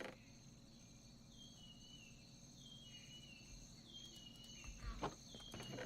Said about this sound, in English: Now you hear like crickets and stuff, which is kind of cool.